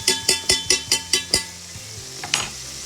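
Mexican cornbread crisps in a frying pan, a soft sizzle running beneath a quick, even series of seven metallic utensil taps on the pan, followed by a pause and one more scrape.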